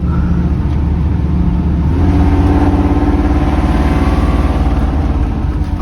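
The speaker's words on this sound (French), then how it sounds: "je suis en train de faire chauffer le moteur" A Ford Mustang engine revs with its exhaust valve open in a forest, loud and close, a steady throbbing rumble that swells slightly mid-way, with no talk over it.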